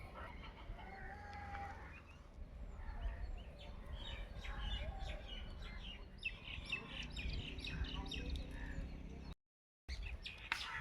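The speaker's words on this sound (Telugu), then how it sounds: "ఇక్కడ ప్యారెట్స్ ఇవన్నీ కూడా రకరకాల పిచ్చుకలు అయితే వచ్చి ఇంకా అలా సౌండ్ చేస్తూ చాలా బాగుంటుంది ఇక్కడైతే" Parrots and sparrows call around a village pond. Bright chirps and squawks come in irregular bursts over a low outdoor hum, with one brief moment of silence near the end.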